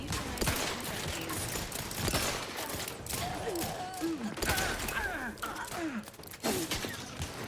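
Bursts of gunfire from the sci-fi shooter The Outer Worlds 2, loud and dense throughout, layered with grunts, gasps and groaning voices amid the fighting.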